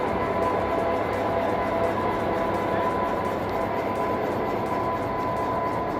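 Train at Landhi railway station in Karachi, a junction where trains stop: a loud, continuous rumbling drone with steady tonal hum, close by and unbroken for the whole stretch, without speech.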